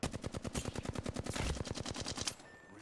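Gunfire from several directions in the Apex Legends video game: loud, rapid automatic bursts crackle in quick rhythm for over two seconds, then cut off.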